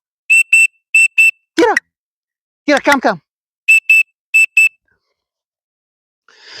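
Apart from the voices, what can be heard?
dog training recall whistle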